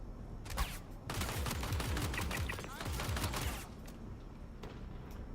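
Rapid gunfire in a video game rattles in a dense sustained burst aimed at the player, running for a few seconds before tapering off into quieter background noise.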